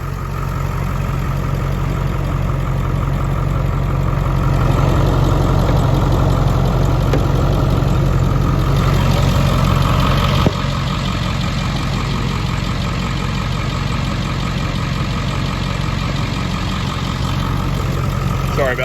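A 2002 Ford F-350 4x4 7.3L diesel engine idles steadily and loudly up close, a continuous low rumble with a faint rhythmic knock throughout.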